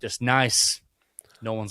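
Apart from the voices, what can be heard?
No everyday noises stand out.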